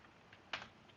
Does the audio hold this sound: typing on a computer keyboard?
yes